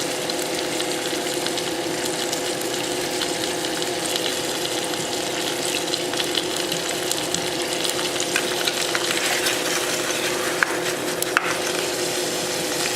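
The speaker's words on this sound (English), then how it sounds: "just get a little sear on both sides before we bake it." Venison searing in a pan on top of a wood stove, a steady broad sizzle and crackle of frying meat running continuously at close range, with no talking.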